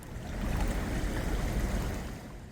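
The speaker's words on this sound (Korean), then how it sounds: "리조트 앞으로 물소리가 들리는데요. 이곳은 북한산에서 내려오는 백운천을 품고 있습니다." The Baekuncheon stream runs down from Bukhansan mountain past a resort in Seoul, giving a steady low rushing of flowing water, soft and continuous, with no voices.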